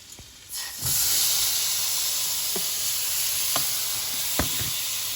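Shrimp sizzle loudly on a hot hibachi griddle, a steady broad hiss that swells after a brief quieter start, with a few soft scrapes and taps of a spatula stirring through it.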